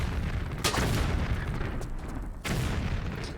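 Explosions from explosive crossbow rounds in a Tomb Raider level editor game, two loud booming bursts with crackling tails over constant dense background game noise.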